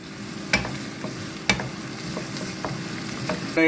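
Garlic, ginger, curry leaves and green chilli sauté in a hot pan for beetroot pickle, a continuous close sizzle with a few distinct spoon scrapes and knocks against the pan.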